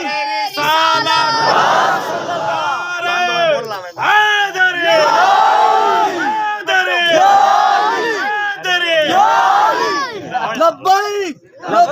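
A large crowd at a religious gathering chants a slogan in loud unison, answering a lead voice with repeated rhythmic shouted calls that rise and fall in waves.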